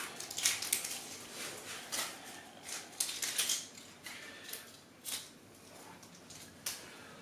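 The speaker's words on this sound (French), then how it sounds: "mon oignon habituel. Donc on coupe la tête et la queue." A knife cuts an onion, trimming off its top and root: a series of crisp slicing crunches and scrapes in irregular bursts, close and moderately quiet.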